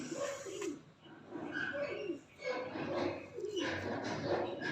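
Kamagar pigeons coo in soft, repeated phrases at close range, with several overlapping calls running through the whole stretch and no talk.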